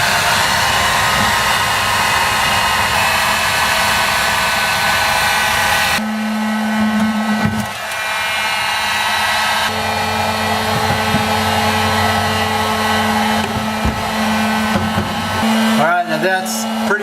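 A heat gun blows steadily on a plastic 55-gallon drum, a continuous loud whooshing roar that shifts in tone partway through, with brief clunks near the end.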